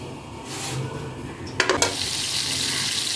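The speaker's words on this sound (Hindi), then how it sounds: "सबसे पहले हम डालेंगे घी और इसको गर्म होने देंगे।" Ghee heats in a cooking pan for an aloo baingan dish, giving a soft, steady close sizzle with a brief cluster of clattering taps partway through.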